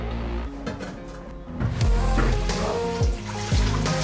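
Water is poured into a pot, ready to be boiled for dyeing a lacrosse head. The pour is close and gurgling, with heavier sloshing surges near the end.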